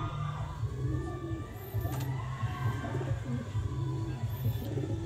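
Homing pigeon in a loft cooing softly, low repeated coos over faint background hum, with a few distant chirps and occasional passing noise.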